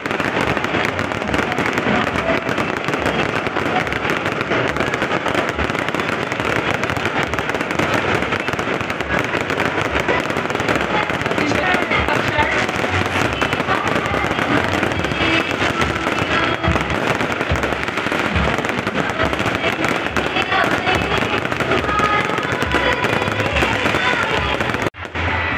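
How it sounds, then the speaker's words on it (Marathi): Firecrackers and fireworks go off at a birthday celebration: a loud, dense, unbroken crackle and rattle of bangs fills the scene throughout, with voices faintly mixed in. "तसेच यावेळी फटाक्यांची आतिषबाजी देखील करण्यात आली"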